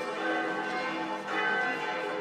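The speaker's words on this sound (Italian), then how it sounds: "quando smetteranno le campane?" Church bells ringing steadily in Aquino, a continuous metallic peal with sustained overtones that swells and dips briefly before swelling again, heard alone without speech.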